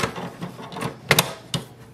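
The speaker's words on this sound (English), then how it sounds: "Once you hear the lock sound, that means it is installed properly." Ink cartridge snapping into place in an HP DeskJet 2734e printer, a few sharp plastic clicks close up, the loudest pair mid-clip and another click shortly after, over quiet handling noise.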